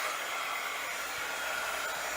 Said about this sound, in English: That's my embossing tool